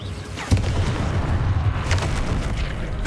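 A Confringo spell in Hogwarts Legacy sets off a deep, rumbling explosion with a heavy low boom, followed by a sustained crackling roar that fills the rest of the moment.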